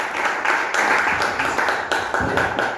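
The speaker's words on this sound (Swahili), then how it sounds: "Tupigie makofi" Audience applause at a live event, a dense continuous patter of many hands clapping at steady loudness throughout, with no clear voices over it.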